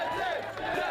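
A crowd roars and shouts continuously at a Street Beefs backyard fight, a dense, loud wash of excited voices holding steady throughout.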